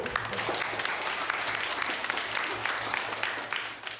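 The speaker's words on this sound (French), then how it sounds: "Félicitations déjà à vous tous, on peut s'applaudir." Classroom or awards-ceremony crowd applauding, dense continuous clapping from many hands, steady and fairly distant, with faint voices beneath and a high whistle-like squeak near the end.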